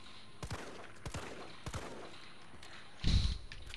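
A few scattered gunshots sound in the Resident Evil 3 Remake demo, sharp separate cracks spaced about half a second apart, then a louder, heavier burst near the end. No one speaks.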